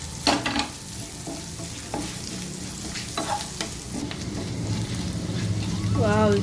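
Rice with cumin is stirred and roasted in a pan over a low flame, giving a steady soft sizzle broken by scraping stirs, with a voice talking briefly in the background.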